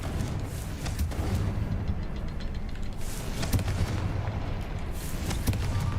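Spell effects from Hogwarts Legacy, including Bombarda, Expelliarmus and Confringo casts, form a dense stream of booming blasts and sharp cracks layered over a continuous loud rumble, with several distinct impacts spread through the stretch.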